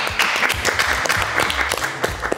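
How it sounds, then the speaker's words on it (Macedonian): Studio audience applauding on a televised cooking-challenge show, a dense steady patter of clapping at close range, fairly loud throughout with scattered sharper claps. "Аплауз."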